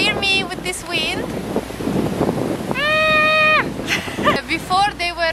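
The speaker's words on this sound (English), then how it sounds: "I hope you will hear me with this wind." Wind buffets the microphone outdoors, a loud continuous rumble and roar running throughout while a person talks over it, with some tonal sounds in the background.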